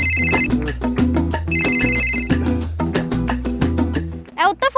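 A phone rings with a melodic electronic ringtone, a loud repeating tune that cycles several times close at hand. A brief voice cuts in near the end.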